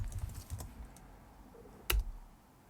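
Typing on a computer keyboard, a few soft, scattered keystrokes and one louder click near the end, quiet and close with no talking.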